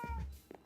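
A single short cat meow in the video game Minecraft, quiet and brief, ending in a small chirp.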